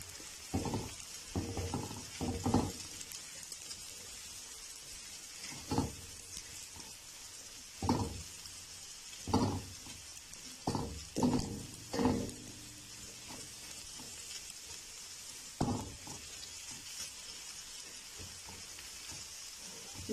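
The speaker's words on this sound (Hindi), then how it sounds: "दस मिनट के लिए हम तमाम सब्जियों को जो है वो अच्छी तरह फ्राई करना है" Mixed vegetables with cabbage fry in a pan for a hot garlic sauce dish, giving a quiet continuous sizzle broken by repeated scraping and stirring strokes at irregular intervals.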